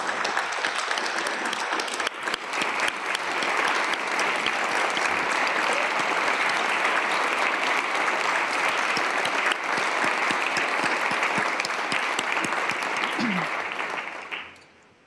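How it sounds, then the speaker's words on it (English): A large audience at a State of the State address gives a long, sustained round of applause, dense and even for about fourteen seconds before fading out. "Please give them a round of applause."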